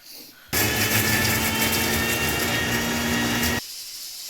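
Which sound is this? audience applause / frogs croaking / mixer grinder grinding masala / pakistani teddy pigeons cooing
mixer grinder grinding masala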